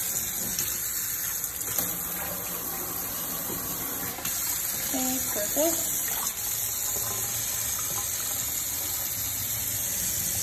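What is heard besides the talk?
water running from a tap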